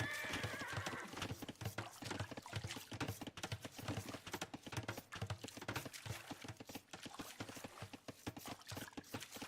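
Horse hooves clip-clop alongside whinnies and neighs in the Age of Empires video game, a busy, steady stream of galloping and game effects with no talking.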